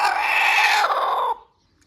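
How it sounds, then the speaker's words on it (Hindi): A broody hen sitting on eggs lets out a single sustained, harsh call lasting just over a second, close and fairly loud, then cuts off into near silence. "ये एक मुर्गी, ये जो कुड़क पे बैठी हुई है"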